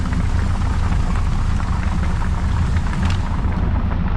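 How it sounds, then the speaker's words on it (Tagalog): Heavy rain pours down hard, making a dense, loud, continuous roaring wash with deep rumbling undertones that holds steady throughout, without any voices. "Bumuhos na yung malakas na ulan."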